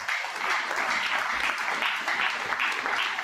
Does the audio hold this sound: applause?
yes